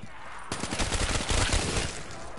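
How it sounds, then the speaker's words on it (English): Rapid gunfire in Call of Duty Black Ops Zombies, a dense volley of loud, close shots that breaks out after a brief pause and runs continuously to the end. "I'm shooting and going, shooting and going."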